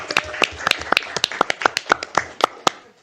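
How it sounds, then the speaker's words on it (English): At a board of commissioners meeting, a small group gives brief applause, sparse distinct hand claps in a loose, uneven rhythm, fairly close and clear with little else around them. "I think that deserves a round of applause."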